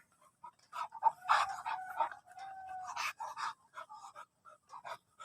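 A beagle pants in quick, breathy bursts close by, broken by short pauses and a few soft whines, with little else around it.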